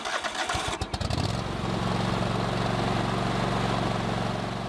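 A Kohler Command engine cranks over briefly and then catches, settling into a steady, loud running drone close by with no talking.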